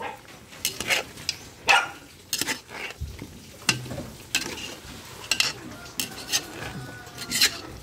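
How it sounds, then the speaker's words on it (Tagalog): Sweet potato (kamote) is stirred in a frying pan as it dries in its own oil: a run of scraping, clinking utensil strokes against the pan over a steady low sizzle, close by, with no talking. "Halo ko lang siya."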